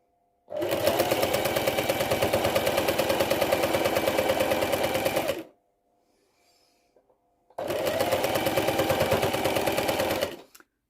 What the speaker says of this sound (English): I'm sewing the blocks together in rows, and then I'm adding the rows together